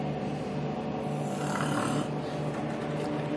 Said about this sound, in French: qui ronfle